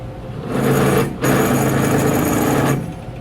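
A drill bit cuts into metal under plenty of coolant, chattering as it bores. It makes a steady, buzzing mechanical whir in two sustained bursts split by a short pause, close and fairly loud.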